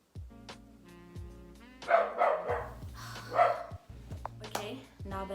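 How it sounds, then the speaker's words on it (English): A dog barks repeatedly in bursts nearby, with sharp yips and some whimpering mixed in over a steady background hum. "now that my dog has stopped barking"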